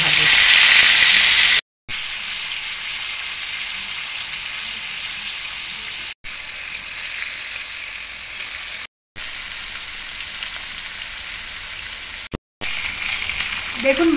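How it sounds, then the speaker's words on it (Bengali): Pieces of catla fish fry in oil in a nonstick pan, with a loud, continuous hissing sizzle broken by a few brief silent cuts. "এবারে আমি মাছগুলো আস্তে আস্তে করে ভাজতে দিয়ে দেবো।"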